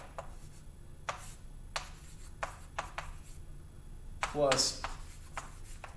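Pen or marker strokes writing out a math equation, a series of short scratchy bursts at close range, with a voice speaking briefly partway through.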